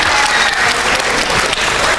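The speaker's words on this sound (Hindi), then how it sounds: "तालियां होनी चाहिए बहुत सारी भाई के लिए।" A crowd at an Islamic quiz game show applauds a correct answer, loud, dense clapping that keeps up evenly for the whole stretch.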